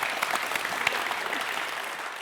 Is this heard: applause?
yes